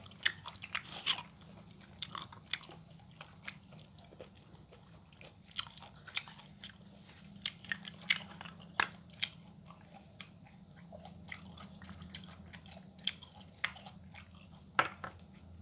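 Someone chewing fresh apple snail meat eaten with a jaew dipping sauce, with quiet, close, repeated crunchy bites and mouth sounds at an irregular rhythm.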